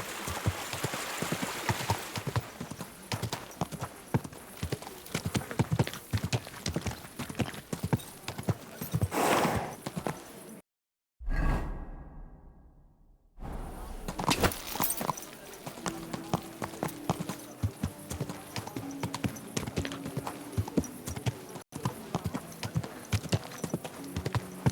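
Horse hooves clip-clopping in the video game Kingdom Come Deliverance II, a steady rhythmic trot at close range over ambient outdoor sound, briefly cut out midway, with a whinny-like burst partway through.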